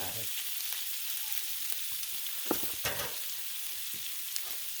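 Pierogi, kielbasa and cabbage sizzle on a Blackstone griddle with a steady frying hiss, broken by a few brief scraping and stirring clatters.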